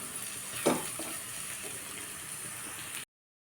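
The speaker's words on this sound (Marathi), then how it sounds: "कमी गॅसवरच आपल्याला हा मसाला छान असा तळून घ्यायचा आहे" Masala fries gently in a pan over a low gas flame for a bitter gourd bhaji, a soft, quiet sizzle with one brief stirring knock early on, ending abruptly after about three seconds.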